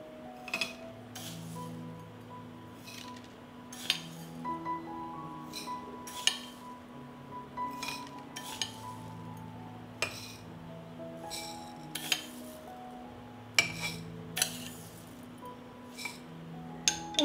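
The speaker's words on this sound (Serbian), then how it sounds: "U svaku teglu dodat ću po 3 supene kašike pirinča." Rice spooned into glass jars, with repeated light clinks of a metal spoon against glass and soft grain rustles, scattered irregularly and close by in a quiet room.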